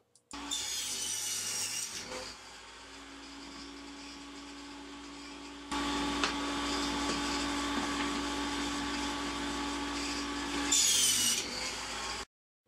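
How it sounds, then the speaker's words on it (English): A loud, steady machine drone with a grinding, rasping edge, stopping and restarting a few times, like power tools cutting wood up close. "he makes a lot of noises with his machines"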